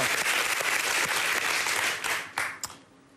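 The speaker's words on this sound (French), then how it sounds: "Ça s'applaudit, s'il vous plaît." Studio audience of a French TV quiz show applauds a contestant, a dense burst of clapping that holds steady, then breaks into a few last scattered claps as it dies away.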